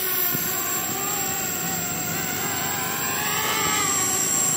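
A homemade 3D-printed drone flies in steady, strong wind, giving a continuous high-pitched motor and propeller whine that holds at an even loudness the whole time.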